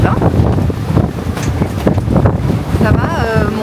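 Strong wind and waves rush past a sailboat at open sea heading into the wind near the Tobago Cays, a loud steady roar with gusts buffeting the microphone and a brief whistle near the end.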